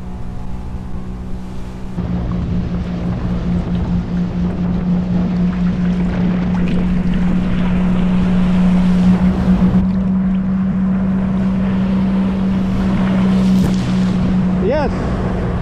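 A Sea-Doo Switch pontoon boat motor hums and rises in pitch as it speeds up on the water in Miami, with wind noise over the microphone and faint voices.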